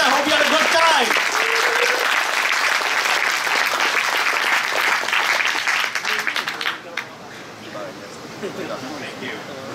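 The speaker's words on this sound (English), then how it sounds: "another round of applause for Gautam." An audience at a Ruby programming conference applauds a standup comedy talk, with loud, sustained clapping that fades out near the end, while a voice speaks over it.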